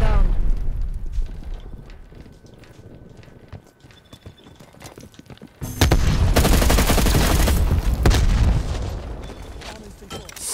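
Gunfire from a slow LMG in a Call of Duty Cold War multiplayer match, scattered shots at first, then a loud sustained burst of rapid fire, with a player talking over it.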